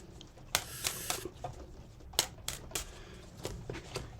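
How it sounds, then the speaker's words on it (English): Tarot cards being shuffled by hand: sharp, irregular clicks and snaps of cards striking each other, close and crisp, in uneven bursts with short pauses and no talking. "Let's give these cards a good shuffle and see what comes out."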